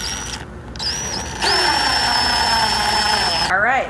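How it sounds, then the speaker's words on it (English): Tuners are screwed into pre-drilled holes on a bolt-on cigar box guitar neck, with a close, high, whining driver sound that wavers in pitch, breaks off briefly, then holds steady for about two seconds. "I'm just going to screw these tuners down"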